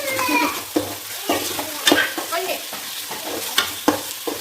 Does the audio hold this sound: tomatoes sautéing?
yes